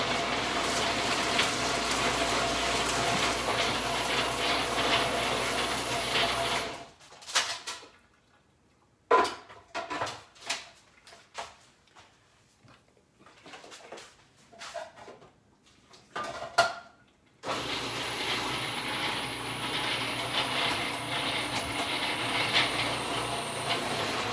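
Loud blender whirring at high speed, cutting out abruptly for a stretch of scattered clinks and knocks, then roaring back on steadily.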